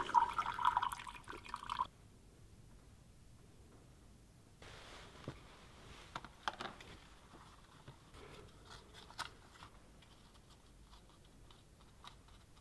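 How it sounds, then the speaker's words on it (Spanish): Liquid dripping through a funnel and filter paper as calcium carbonate precipitate is filtered out, heard as faint, scattered drips and light ticks under a louder opening rustle that fades away. "con la ayuda de un embudo y papel de filtro voy a separar el precipitado de carbonato de calcio"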